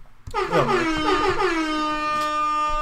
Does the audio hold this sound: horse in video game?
no